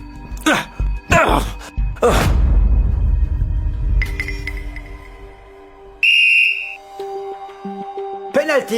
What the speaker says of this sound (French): Penalty sifflé par l'arbitre